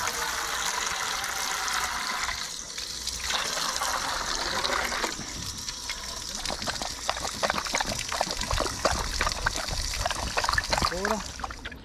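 Water poured out outdoors on a trip by the van, a steady trickling splash lasting several seconds with dribbles and splatters toward the end, while people talk over it.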